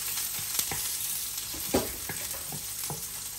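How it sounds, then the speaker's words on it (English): Broccoli frying with red pesto in a hot oiled pan: continuous loud sizzle with repeated soft scraping and knocking from stirring, close up, without talk. "mag-fry tayo ng broccoli with red pesto"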